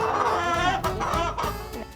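Hens clucking continuously on a farm raised for a youth 4-H project, a busy overlapping flock close by with steady cackling throughout and no voices.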